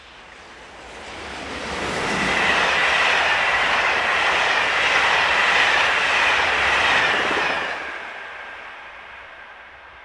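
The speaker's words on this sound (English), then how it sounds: "This Ouigo train from Nantes nearly caught us out, with 22317 on point." A Ouigo train from Nantes, led by locomotive 22317, passes loudly and close by, its rushing roar and wheel clatter swelling for several seconds before fading away; no voices.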